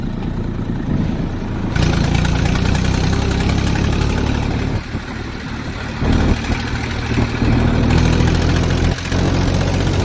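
A Massey Ferguson 241 tractor engine runs steadily close by, a loud continuous rumble with a few brief dips and surges in level and no talking.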